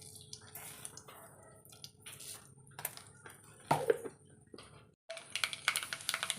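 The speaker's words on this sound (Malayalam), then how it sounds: "കുറച്ച് കടുക് ഇട്ട് കൊടുക്കാം." Mustard seeds crackle and pop in hot coconut oil in a pan, starting as a soft sizzle with scattered spits, then a louder, denser burst of rapid spluttering near the end.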